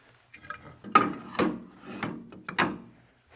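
Metal lathe wheel set wheels scrape and clunk as they slide over the feet of a Vicmarc lathe, a few uneven knocking rubs heard close and alone.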